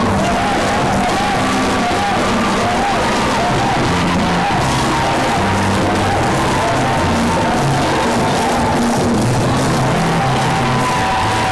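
Fans at an outdoor drumming performance cheer and yell continuously, a loud, dense crowd roar with whoops over a rumbling, saturated background that never lets up.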